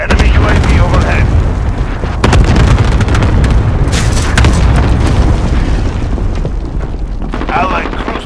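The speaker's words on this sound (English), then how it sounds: "Enemy cluster strike incoming. Take cover." Cluster strike explosions in Call of Duty Modern Warfare, with loud, close booms rolling together into a heavy, sustained barrage that covers several seconds, and speech mixed into the din.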